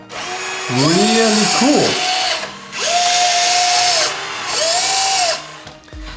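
A radio-controlled Volvo EC 160E electric excavator whines in three loud, fairly close bursts, each rising and then holding a high, drill-like motor pitch with pauses between, and a short spoken comment over it.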